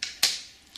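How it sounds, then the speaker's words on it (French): Small scissors snipping fibres while tying a fishing fly, two crisp close cuts followed by a fainter third click, quiet and isolated. "Donc je vais couper les fibres"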